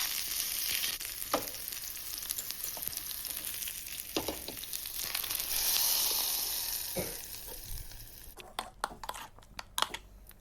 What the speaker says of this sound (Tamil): எண்ணெய் காய வச்சு கொஞ்சம் சீரகம், ஒரே ஒரு காஞ்ச மிளகாய், கொஞ்சமாக சின்ன வெங்காயம் சேர்த்துக்கலாம்.